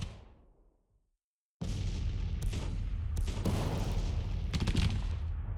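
Dense musket volleys and booming artillery fire roll across a Civil War battlefield in Grand Tactician, cutting in after a brief silence and continuing as a loud, continuous crackling fusillade.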